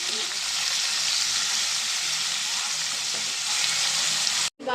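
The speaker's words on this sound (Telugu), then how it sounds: "దీంట్లో ఒక ఉల్లిపాయ పచ్చిమిర్చి కరివేపాకు వేసుకుందాం ఇంకొక కొంచెం ఫ్రై అయ్యాక ఒక సెకండ్ ఫ్రై చేద్దామండి" Onion, green chilli and curry leaves fry in hot oil in a pan, a dense, even hiss of sizzling close up, steady throughout before breaking off abruptly near the end.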